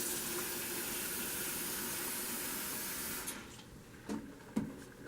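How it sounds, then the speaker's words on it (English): Water runs from a tap into a basin for a bed bath, a steady hissing flow that cuts off partway through, followed by a few soft splashes and clinks. "While we're filling the water in the basin"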